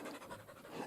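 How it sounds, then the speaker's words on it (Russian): A female dog pants with asthmatic, wheezy breathing in hot weather, a quick continuous rasp heard up close with no talk. "дышит Умочка, астматическое дыхание такое. Просится на прогулку, жарко ей"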